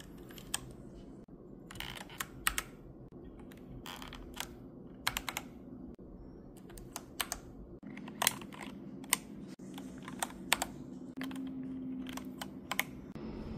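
Typing on a computer keyboard fitted with freshly cleaned keycaps: quiet, close key clicks come in uneven bursts and single taps over a faint steady hum, with no talking.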